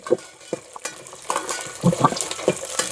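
Peanuts lightly frying in a home kitchen pan, with a spoon scraping and stirring in short irregular clicks and rustles over a soft sizzle, close and fairly quiet, with no talking.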